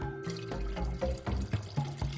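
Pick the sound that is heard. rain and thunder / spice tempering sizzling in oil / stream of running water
stream of running water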